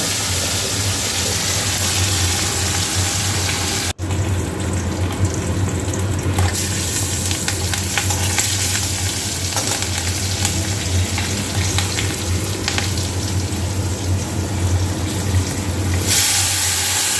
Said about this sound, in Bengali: মাছ ভেজে নিয়ে ঝাল করে দেবো